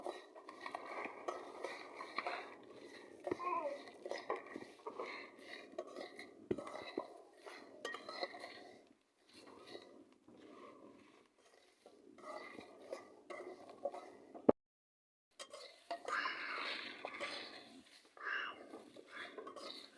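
Spices stir-fried together in a pan for a sweet, sour and hot raw mango pickle, with a spatula scraping and clinking against metal in intermittent close strokes, soft and quiet, with a short silent gap near the end.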